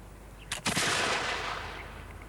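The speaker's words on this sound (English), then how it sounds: "To make it ready to fire, the cock is brought back to the full position and fired in this manner" Antique flintlock gun firing, shown in slow motion: a sharp crack from the flint striking, then a sustained, smeared roar of the discharge that slowly fades away.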